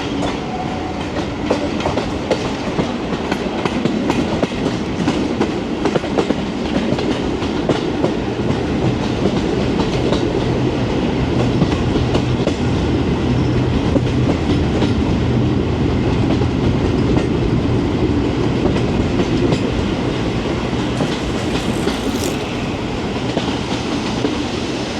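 British Rail Class 44 diesel locomotive rolling slowly on track near Matlock Riverside on a heritage line, a steady dense rumble with continuous clickety-clack of wheels on rails, close and loud throughout with no talk.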